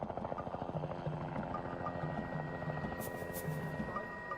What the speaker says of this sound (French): Aujourd'hui, on y accède en hélicoptère.